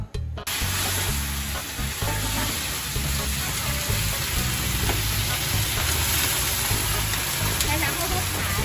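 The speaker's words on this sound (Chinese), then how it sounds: "我现在要先炒这个素菜。" Vegetables stir-fry in a large wok with a loud, continuous sizzle and scraping stirs, close up, with a voice briefly heard over the cooking.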